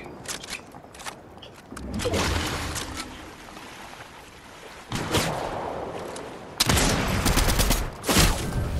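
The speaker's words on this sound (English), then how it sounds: "I just got sniped from somewhere." Gunfire in the video game Fortnite Battle Royale, including sniper rifle shots, comes as several loud sharp bursts against a continuous game ambience, with occasional speech in the background.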